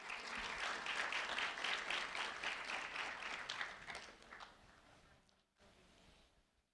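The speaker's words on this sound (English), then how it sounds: "a round of applause for Haley Mendez" Applause for Haley Mendez, a fifth grade student from Lehigh Acres, at a sheriff's office recognition; a steady round of clapping from a small crowd that gradually thins and fades out near the end.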